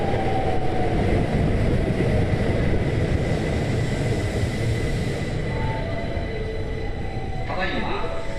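A Keihan train pulls into Karashima Station with a loud, sustained rumble and roar that eases near the end, giving way to a brief screech of brakes.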